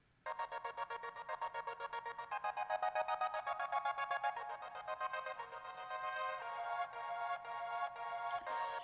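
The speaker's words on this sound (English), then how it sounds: "added some decapitator from Sound Toys, and then a crazy tremolo on it and a little reverb to sound like this" A pitched melodic sample run through Soundtoys Decapitator distortion, heavy tremolo and light reverb, giving a bright, gritty tone that pulses rapidly and continuously for several seconds with no speech.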